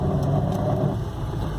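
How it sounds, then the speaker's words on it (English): A 1980 Mercedes-Benz 280TE with manual transmission rumbles in first gear while driving, a steady, loud, low droning engine note heard from inside the car with no talk. "the first gear rumble"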